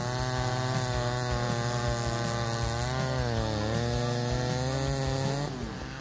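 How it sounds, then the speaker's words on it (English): A McCulloch 797 chainsaw with a .404 full-chisel chain cuts through a giant oak tree: a loud, steady high-revving buzz whose pitch sags under load, then eases off at the end. "Let's see the wood sawing process of the McCulloch 797 125 sec machine, a formidable tool designed to conquer giant oak trees."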